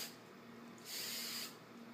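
Hairspray from an aerosol can hisses in one short burst over freshly curled hair, close and steady for about half a second, with quiet room tone before and after.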